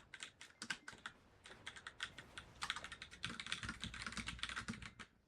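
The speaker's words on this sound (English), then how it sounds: "We were spamming spacebar and it kind of is working" Computer keyboard keys hammered in rapid irregular bursts while playing a game, crisp close clicks that grow denser and faster toward the end.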